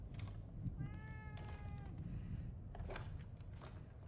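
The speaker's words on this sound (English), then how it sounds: "Meow, meow to you too." A cat in the video game The Evil Within 2 meows once with a clear, drawn-out tonal cry over a constant low background hum, then only the hum remains.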